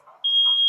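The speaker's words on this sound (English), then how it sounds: "the fire alarm finally starts sounding off" A fire alarm goes off during a fire in a played video, a loud steady high-pitched electronic tone that starts abruptly after faint background noise and holds continuously.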